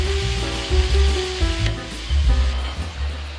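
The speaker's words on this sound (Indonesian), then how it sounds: "Oke, sekarang kita goreng ayam crispy-nya ini sampai kuning keemasan." Battered crispy chicken deep fries in hot oil with a steady, loud, close sizzle and crackle, bubbling continuously throughout.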